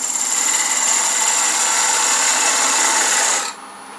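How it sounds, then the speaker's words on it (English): A very sharp 1/8-inch parting tool cuts into a wooden loom pulley spinning on a lathe, giving a steady, bright scraping hiss at close range that stops abruptly near the end, leaving a faint hum. "use a 1/8 inch parting tool, very sharp, center it right on the piece by eye"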